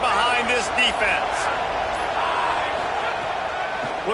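A college football stadium crowd roars steadily at a Florida vs Tennessee game, loud and continuous beneath a commentator talking over it.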